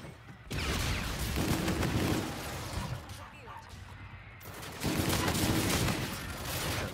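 The Auger light machine gun firing in the video game Call of Duty: Infinite Warfare, with dense, rapid bursts of automatic fire that pause and resume, while people talk over the gunfire.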